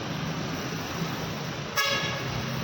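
A bus horn gives one short, bright honk partway through, sounding over a steady low road and engine rumble.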